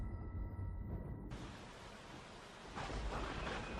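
Heavy rain with thunder as a sound effect in a horror story: a dense, steady roar of downpour with low rumbling, swelling louder near the end, no voices.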